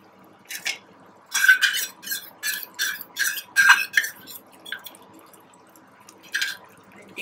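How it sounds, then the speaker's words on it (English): Cashew nut and melon seed paste being spooned into a pan of cooked vegetables for a kadai gravy, a run of wet plops and scrapes in uneven bursts, close and fairly quiet. "Now I'm adding the paste of cashew nut and melon seed."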